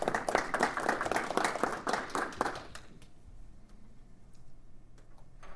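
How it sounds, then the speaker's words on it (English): A small meetup crowd gives a short round of applause for the event volunteers at a Rust programming user group gathering, a few seconds of moderate, crisp clapping that fades into quiet room tone. "I'd like to give a round of applause to our volunteers for helping out"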